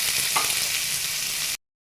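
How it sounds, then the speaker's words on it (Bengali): Chopped onion sizzling in hot oil in a pan while cooking a chicken dak bungalow curry, a steady bright hiss lasting about a second and a half, then abrupt silence. "পেঁয়াজটা একটু ভাজা হবে।"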